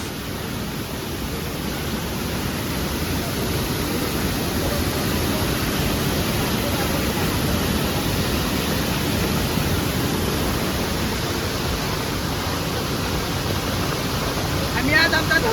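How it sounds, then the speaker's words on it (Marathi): A village waterfall pours in a continuous, even roar of rushing water that stays steady and fairly close throughout, with no breaks. "एवढा धबधबा वाहते बघा"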